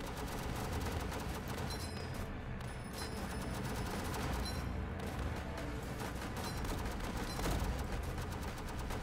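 Machine guns rattle continuously in World War Tower Defense, a dense, steady wall of rapid automatic fire with scattered louder shots layered on top, running without pause and without voices.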